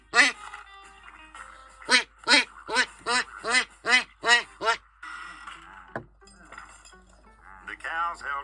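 Duck quacking sound effect in a read-aloud farm story, a run of seven or eight loud rhythmic quacks followed by a short clink and a voice speaking.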